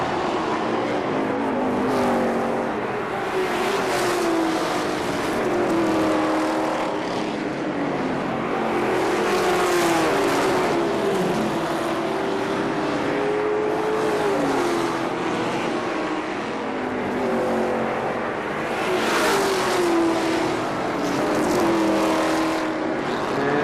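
Race cars roaring around Kil-Kare Speedway oval in Dayton, engines rising and falling in pitch as several cars pass in waves, loud and continuous with crowd-level ambience.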